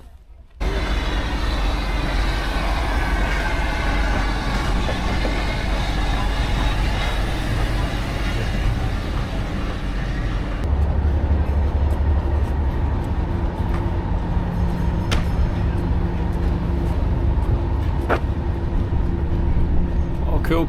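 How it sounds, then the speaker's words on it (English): A steam train pulls into Grosmont station on the North York Moors, a steady loud rumble of engine and carriages filling the scene, deepening and shifting partway through as it nears the platform. "Just caught the steam train coming in."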